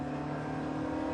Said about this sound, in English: There's a fair bit of period turbo lag, as you can hear.